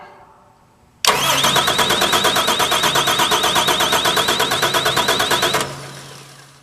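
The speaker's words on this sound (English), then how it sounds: "start cranking the engine" An engine starter cranks a car in a fast rhythmic whirring chug for about four seconds without catching, then stops, close and loud.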